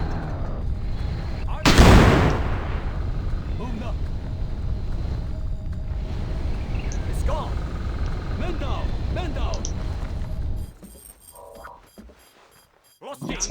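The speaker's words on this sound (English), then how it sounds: "It's like a frag grenade." A frag grenade blows up in a video game with one sharp, loud burst early on, then rumbling gunfire and battle noise continue before fading near the end.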